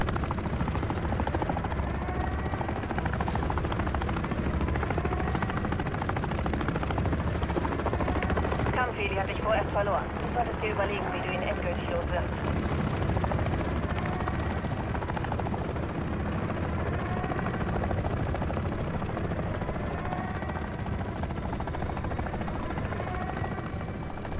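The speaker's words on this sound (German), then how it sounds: "Da ist ein scheiß Helikopter oben." A helicopter hovers overhead in Call of Duty Modern Warfare 3, a steady, loud rotor drone that fills the whole stretch, with scattered gunfire and someone talking in German over it.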